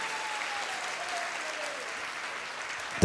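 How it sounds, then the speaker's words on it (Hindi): Loud, steady applause from an audience at a Jain kalash sthapana ceremony in Lalitpur, Uttar Pradesh, sustained without a break and with no voices on top. "तो हमारे सामने गुरुदेव हैं, तो एक बार जोरदार ताली बजा करके बता दीजिए"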